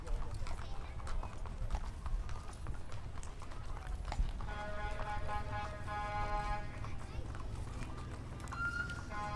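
Horses clip-clop along in a county fair parade in Elk River, with steady hoofbeats under nearby crowd chatter and talking throughout.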